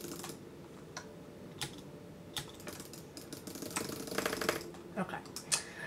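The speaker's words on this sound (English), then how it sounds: "that was fast clicking" Rapid typing on an iMac computer keyboard during Minecraft play, with dense bursts of quick key clicks that cluster and speed up toward the end, heard close over a low background hum.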